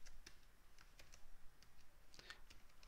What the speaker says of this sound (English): you can just type SRIM